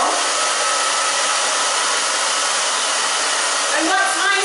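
A hair dryer blasts steadily up close, drying freshly cut hair with a loud, continuous airy roar, and a slight shift in pitch just before the end.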